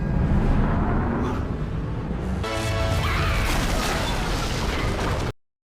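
Magic explosion in a film scene, a heavy rumbling blast that swells into a crashing, debris-filled burst partway through, loud and sustained before cutting off abruptly.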